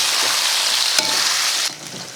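Soya chunks (meal maker) fry in oil in a kadai with a steady, loud sizzle, a brief clatter of stirring near the middle, and the frying settling a little quieter toward the end.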